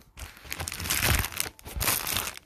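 Crinkling, tearing plastic and cardboard as a package ordered online is cut open, loud and close with bursts of crunching, a brief pause near the start and another midway.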